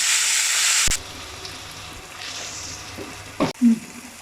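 Onion and tomato sauté with salt on a low flame for a pumpkin puli curry, a soft sizzling hiss that cuts off sharply, followed by faint quiet stretches and a couple of brief utensil knocks.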